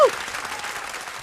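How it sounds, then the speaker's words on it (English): Brief burst of audience applause in a talk-show setting, a dense, steady patter of many hands clapping at moderate loudness, with a trace of a voice at the very start. "Give that man a round of applause"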